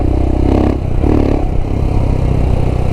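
A Royal Enfield Himalayan with a 462cc big bore kit and a Tec cam is ridden, its engine a loud, close, continuous rumble with brief rises in pitch as it revs.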